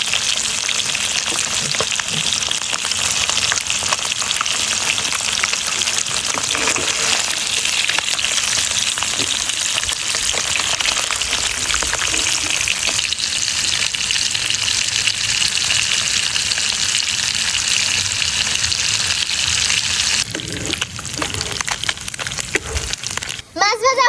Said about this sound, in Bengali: মাছ ভাজা হয়ে গেছে, তো এবার নামিয়ে নেব